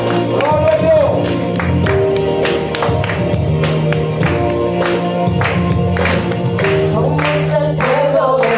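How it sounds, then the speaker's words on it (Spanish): A church congregation claps in praise, with dense, rhythmic hand clapping throughout under voices and music, loud and continuous. "Con las palmas, vamos a palmar al Señor en esta tarde."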